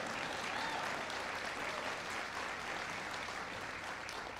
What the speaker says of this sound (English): That's worth the applause